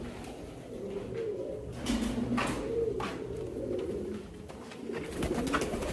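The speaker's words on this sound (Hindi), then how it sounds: "चलिए दिखाते हैं आपको अपने कबूतर करीब से।" Several pigeons coo softly and repeatedly nearby in a new loft, low rolling calls overlapping with faint rustling and background noise.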